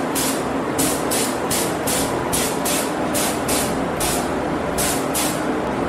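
A spray gun lays a light coat of matte varnish over a Honda decal on the plastic panels of a Honda XRE 300 motorcycle, producing about ten short, regularly spaced bursts of hiss over a steady, loud background rush.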